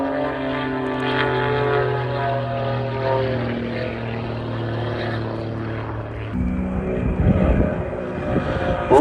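Propeller aircraft performing aerobatics at the Duxford airshow, flat spin and vertical snap rolls, its engine drone steady and loud with rising harmonic pitch, then shifting and swelling near the end.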